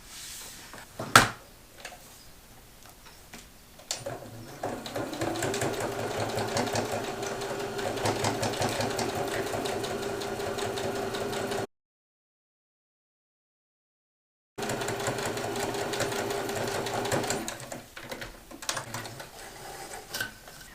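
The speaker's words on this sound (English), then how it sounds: "I'm just going to stitch straight down to create that custom fit pocket for this laptop" A sewing machine runs a long straight seam down a padded laptop sleeve in a bag interior, a steady close mechanical whirr with rapid needle ticking. It stops for a few seconds, then restarts and slows to a halt.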